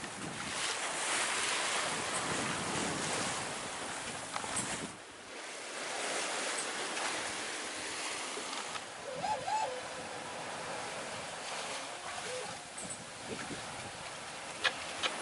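A sailboat running downwind at about six knots through ocean waves, with a steady rush of water along the hull, surging wave wash and heavy wind buffeting the microphone throughout.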